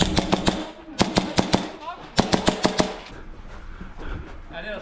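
Video game gunfire from a custom Hi-Capa 4.3 pistol rings out in fast, loud bursts of sharp shots, two rapid volleys close together, with faint voices underneath.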